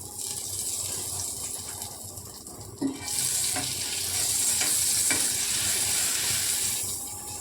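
Butter melting and sizzling in a pan before bread goes in for toast, a soft hiss that swells into a brighter, louder sizzle after a brief clink, continuing steadily without speech.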